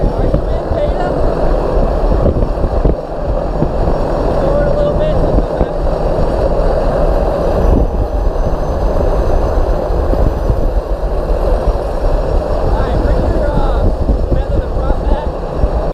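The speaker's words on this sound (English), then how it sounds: "pull it all the way back into full reverse to see how the beta is functioning" A turboprop engine is pulled back into full reverse beta, giving a loud, unbroken roar with wind-like rushing that stays level throughout.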